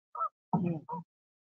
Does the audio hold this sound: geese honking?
yes